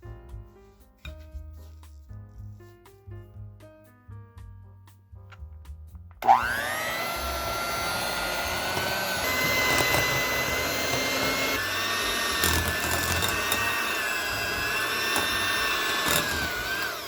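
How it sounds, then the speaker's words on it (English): Electric hand mixer beating sugar and butter in a large bowl for cake batter, a loud steady whirring drone that starts abruptly after quiet soft music and runs on continuously with no talk. "in a large bowl, I am going to mix the sugar and the butter"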